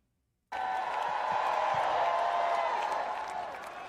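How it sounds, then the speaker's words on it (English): A big outdoor campaign rally crowd in Pittsburgh, Pennsylvania roars with sustained cheering and applause that breaks in suddenly after a brief silence, then holds steady, loud and dense, easing slightly toward the end. "Wow, what a crowd."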